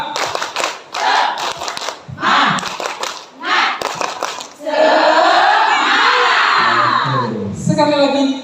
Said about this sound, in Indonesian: Kita akhiri dengan tepuk semangat.